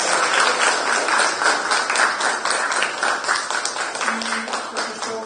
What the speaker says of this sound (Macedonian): сите да им дадеме еден аплауз на асистентите кои што им помагаат на овие наши дечиња